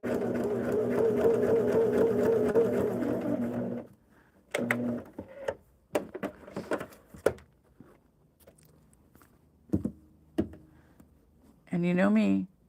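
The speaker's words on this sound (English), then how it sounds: "lift the presser foot, and now we're going to rotate the one underneath so my edges match, and just stitch straight on down that line" A sewing machine stitches a straight seam on a Wedding Star quilt block, running steadily and loudly for about four seconds; scattered handling clicks and rustles follow, then a short final burst of stitching.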